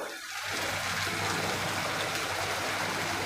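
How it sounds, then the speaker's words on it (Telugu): Water pours steadily into a pan of palak paneer, a continuous rushing splash starting after a brief quiet moment and running without pause. "ఇప్పుడు కొంచెం నీళ్ళు వేసేద్దాము"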